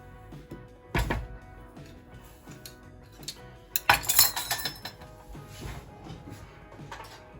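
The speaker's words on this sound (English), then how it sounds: "give it a good old stir up" Coarse kosher salt and coarse black pepper are mixed into a brisket rub, with a utensil clinking and scraping in a bowl in a few uneven bursts, close and clear, and no voice.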